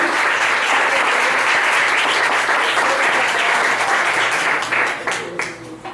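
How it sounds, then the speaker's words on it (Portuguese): Dense applause from a large church congregation fills the whole stretch, steady and loud before thinning out toward the end. "Você quer dar uma aplauso ao Senhor?"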